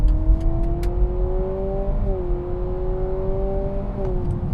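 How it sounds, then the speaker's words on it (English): A 2025 Honda Civic Hybrid with a 200-horsepower powertrain accelerates hard, its loud rising whine climbing steadily with a brief dip around the middle, heard from inside the cabin. "But let's do a little acceleration run."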